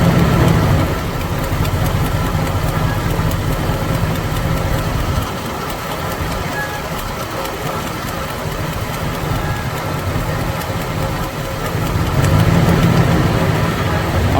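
Mopar 383 V8 idling with an Edelbrock 1406 carburetor, a steady close rumble that dips briefly in the middle and rises again near the end, with no talk.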